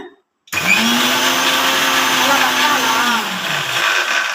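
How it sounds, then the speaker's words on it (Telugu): A kitchen mixer blends mango, milk, water, raisins and cardamom into a milkshake, switching on abruptly after a short silence and whirring loudly and steadily with a rising motor whine, then easing slightly toward the end. "మ్యాంగోస్ వాటర్ మిల్క్ కిస్మిస్ యాలకులు అన్నీ వేసి మిక్సీ పడితే ఏమవుతుంది"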